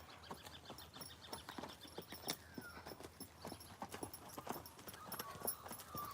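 A ridden horse's hooves strike ground in a quick irregular clip-clop as she tries to break into a canter, fairly close, with faint birds behind and no talk.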